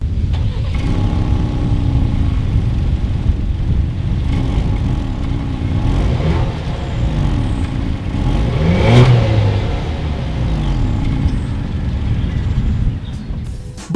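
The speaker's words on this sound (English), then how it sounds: "As always, here is that exhaust clip." Dual exhaust of a 2020 Ford Explorer XLT, a steady loud engine idle with one rev rising and falling midway, close by, with no talking.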